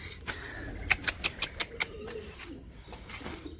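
Pigeons on a farm give a run of soft coos with several sharp bursts that may be wing claps, fairly close, against quiet outdoor background.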